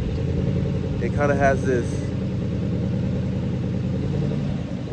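Tuned widebody Dodge Durango with the 392 V8 idling with a deep, steady rumble and a slight rise and fall, close and continuous, as someone speaks briefly over it.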